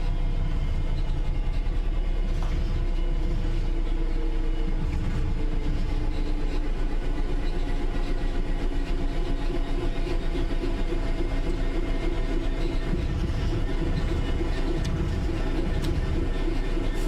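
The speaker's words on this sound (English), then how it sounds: "The train will then coast on level ground, and the train will only slow down very gradually." Train in a video game coasting on level ground, a continuous low rumble of wheels and engine hum with faint rail clatter, steady and unbroken over many seconds.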